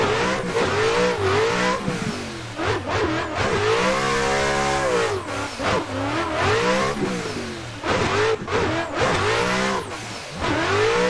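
Nissan S15 drift car on a fresh motor revving hard, its engine note rising and falling through repeated high-rev pulls with loud, sustained, close-up roar and brief dips between bursts.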